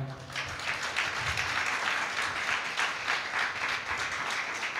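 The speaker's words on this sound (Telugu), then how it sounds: "క్లాప్స్ కొట్టి గట్టిగా." Church audience at a training programme clapping loudly, a sustained, fairly even burst of applause from many hands that carries on without speech.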